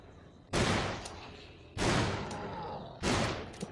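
Three heavy Magnum revolver shots boom in Dead Island, each a loud sharp blast with a long decaying tail, spaced over a second apart.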